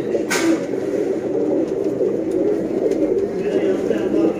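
Loft full of paired flying pigeons gives a thick, steady cooing drone throughout, fairly loud and near, with a sharp clack early on and murmuring voices beneath.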